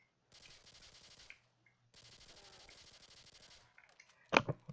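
Bursts of rapid pistol fire in the modded video game Call of Duty: World at War zombies come in two short volleys, fairly quiet, then a louder sharp impact sound near the end.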